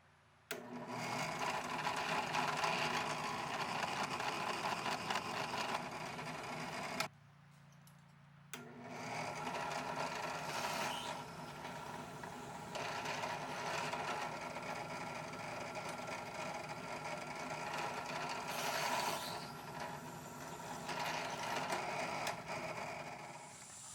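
Steady machine whine of holes being drilled for screw pass-throughs in liner lock folding knife parts, running continuously with one brief pause, close and fairly loud.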